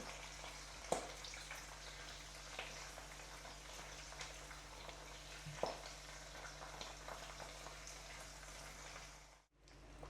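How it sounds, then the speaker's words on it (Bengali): Dried fish fritters (shutki bora) fry in oil over low heat in a pan, a faint, even sizzle with a couple of soft clicks as pieces are turned, then a sudden brief drop near the end. "এখন এগুলো খুব সুন্দর করে তেলে ভাজতে হবে"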